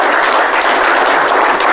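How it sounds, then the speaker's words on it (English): A live audience at a mentalism show bursts into loud, dense clapping, a short continuous wash of applause close and full with no voices over it. "Give her a round of applause"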